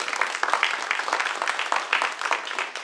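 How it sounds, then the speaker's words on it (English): A dense, steady wash of audience clapping for a panel at a community forum, loud and continuous throughout. "Let's give a round of applause to our panel."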